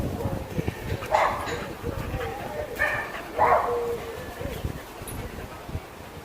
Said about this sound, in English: we've got 4 or 5 different dogs in 3 or 4 different back gardens behind us